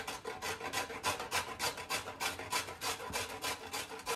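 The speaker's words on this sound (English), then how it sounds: "now I'm gonna grate the carrots because I peeled them" Peeled carrots being rubbed over a kitchen grater, making a quiet, steady rhythm of rasping scrapes, about three strokes per second, close by and continuous.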